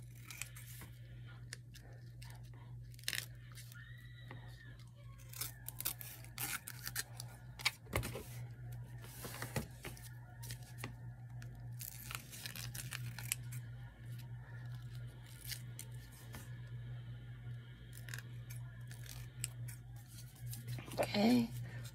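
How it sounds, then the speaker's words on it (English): Scissors snipping through the plastic netting wrapped around a puzzle, a series of small close clicks and cuts over a steady low hum, with faint speech in the background. "First we'll cut the netting off."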